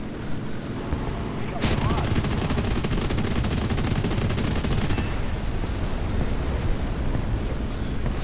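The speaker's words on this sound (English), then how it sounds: "I'm gonna strafe that guy." Aircraft machine guns strafing ground targets in War Thunder, fired from a P-40-era fighter: a long, dense, continuous burst of rapid gunfire over a roaring engine, beginning sharply and running for several seconds.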